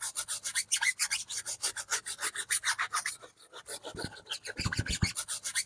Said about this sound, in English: I'm going to put some elbow grease into this, guys, because you definitely want to get off all that brown, caked on, dirt, caked on tire shine.